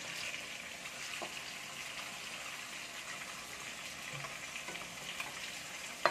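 Fish pieces for fish biryani sizzle in hot oil, a soft continuous frying crackle with a few faint clinks, close and fairly quiet, with no voices.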